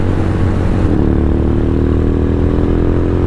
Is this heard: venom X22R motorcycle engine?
yes